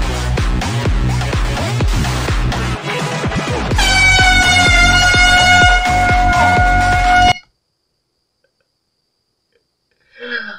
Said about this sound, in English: like to know how you get an air horn in a fridge